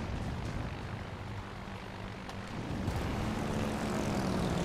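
Four propeller planes flying overhead in the naval combat game World of Warships: Legends, a steady droning engine roar that swells slightly louder toward the end, with no voices.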